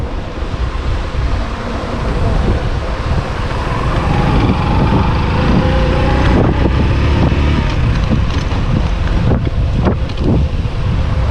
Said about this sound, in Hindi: ठंडी हवा लग रही है यहाँ तो